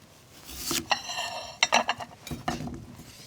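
Thick slices of radish cut with a knife on a board while preparing clear soup, giving a few crisp knocks and scraping taps in a quiet kitchen, with no talking.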